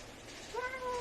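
A cat gives one short, clear meow near the end, rising in pitch and then fading, heard fairly close over a soft background hiss.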